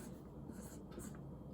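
A marker or pen writes numbers by hand in a home lesson, a brief faint squeaky scratch of two quick strokes over a steady low background hum, with no voices.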